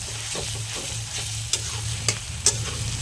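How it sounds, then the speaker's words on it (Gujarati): Grated carrots roasting in ghee for gajar halwa give a steady close sizzle, with a few sharp scrapes and clinks of the stirring spoon against the pan and no talk. "ગાજર શેકી નાખ્યા છે અને જો આવી રીતને ઘી બારું નીકળે ત્યાં સુધી શેકવાના રહેશે"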